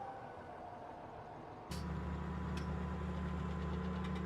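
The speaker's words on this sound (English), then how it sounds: "let's just get our tractor up and rolling here" A tractor engine in a farming video game turns over and settles into a loud, steady low rumble after a quieter stretch, with faint clicks on top and no talking.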